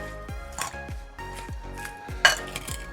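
Spoon clinking against a dish while seasoned roasted meat is stirred with sumac: a series of sharp, close metallic knocks and scrapes in an uneven rhythm, with no voices.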